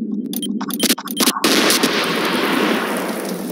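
A SLAM explosive detonates in Garry's Mod, preceded by several sharp cracking pops, then a loud blast that rolls into a sustained, dense roar of fire and debris.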